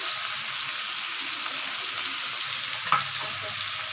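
Cashews, raisins, cinnamon and cardamom fry in a hot pan for a creamy cauliflower curry, giving a steady, close sizzle throughout with a single brief clink just before the end.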